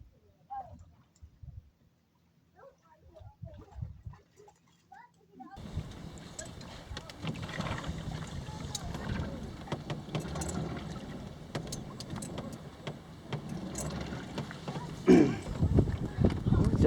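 A pedal boat churns through water with steady bubbling and splashing that starts abruptly and builds in loudness, with people talking quietly before it begins.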